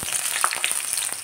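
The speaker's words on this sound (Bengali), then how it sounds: "এবার পটলগুলো দিয়ে লাল লাল করে ভাজবো।" Pieces of pointed gourd fry in hot oil for shukto, giving a close, constant crackling sizzle. Sharp pops are scattered through it, with no voices.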